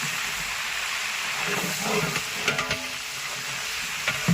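Onions sizzle and crackle steadily in a hot pan after a tempering of kozhuppu rasam, with scraping stirring sounds and occasional louder pops.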